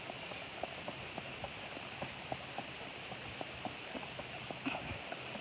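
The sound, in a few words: horse hooves clip-clopping, paint quarter horse cross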